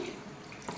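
A brief, quiet splash of about one and a half cups of water being poured into tamarind for a curry leaf gravy, soft and close.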